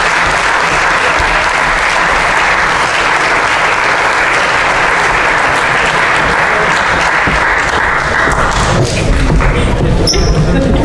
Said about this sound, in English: Have a round of applause for our fall sport captains.